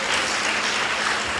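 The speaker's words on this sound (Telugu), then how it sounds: "అందరూ చప్పట్లు కొట్టారు." Church congregation clapping together, a dense, steady burst of applause from a crowd, brief and fairly close.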